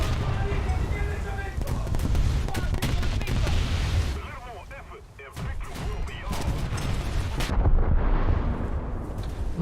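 Naval gunfire in a warship video game, with booming cannon blasts and crashing impacts thudding over a constant rumbling battle bed. Someone talks over it at times.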